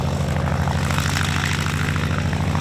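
A single-seat AD-4 Skyraider propeller warbird rolling out from a ramp, its big piston engine giving a steady, droning propeller hum at moderate distance with no voices.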